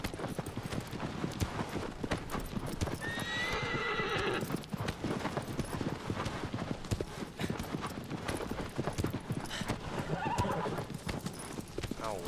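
Horse hooves clip-clopping steadily with a couple of whinnies and neighs in the Shadow of the Colossus video game, fairly quiet under a continuous game soundscape.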